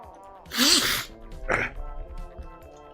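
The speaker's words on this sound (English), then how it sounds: "Got the sneeze at the moment." A close sneeze-like burst with a sharp voiced onset, followed a second later by a smaller second burst, like a follow-up sneeze or throat noise, over faint background music.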